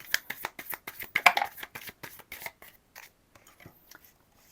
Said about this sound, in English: I'll shuffle it again because I think they got like stuck together